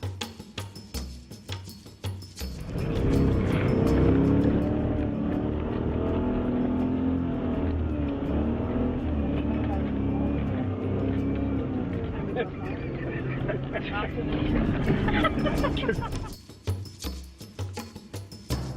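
An SUV dune bashing through desert sand on the ride out to a desert camp, its engine roaring steadily and loud for most of the stretch, with people talking over and around the noise.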